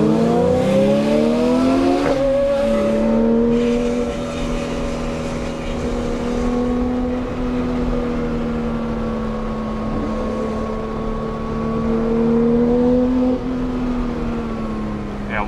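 Manual Porsche 991.2 GT3 engine revving hard and holding a high, steady drone, loud and close, with no talk over it.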